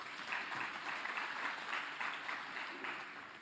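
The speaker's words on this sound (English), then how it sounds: "I want us to give a big round of applause to the police" A crowd at a political party gathering applauds the police, a steady wash of clapping running across the whole stretch with faint voices mixed in.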